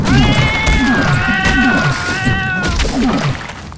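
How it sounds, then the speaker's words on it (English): A cat in the video game Fate meows in drawn-out, wavering cries, loud and close, repeating several times over a rhythmic low game background. "Try to kill that, that cat."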